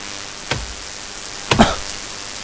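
Two sharp chopping thuds of wood being chopped in the video game The Forest, about a second apart, close and distinct, over a faint background hiss.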